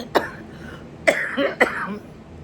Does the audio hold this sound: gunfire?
no